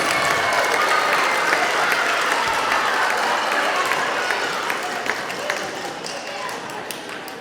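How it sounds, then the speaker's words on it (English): A middle school band concert audience applauds with dense, steady clapping that gradually thins and fades toward the end. "So, round of applause for Mr. Boyce."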